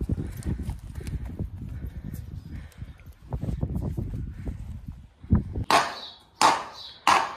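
Horse hooves clip-clop on a pasture, a run of close, irregular thuds followed by a few sharp, loud impacts near the end, with no talk over them.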